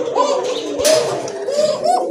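A large female pigeon coos in low, rolling, throaty phrases up close, with a brief rustle midway and faint background chatter.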